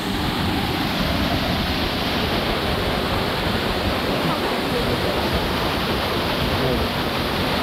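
Pito Waterfall in the jungle roars as a steady, full wash of falling water, close and constant throughout, with a voice briefly audible beneath the rush.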